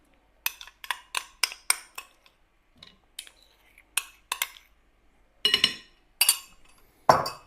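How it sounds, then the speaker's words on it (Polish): Cake batter made with homogenized cheese is mixed in a bowl, giving irregular sharp clinks and taps of a utensil against the bowl in quick clusters, separated by short silences. "i ponownie mieszam"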